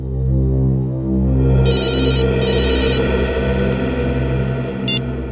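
Telephone ringing in a crime drama scene: two quick electronic trilling bursts, then a shorter one, sounding over a loud, throbbing, droning music bed.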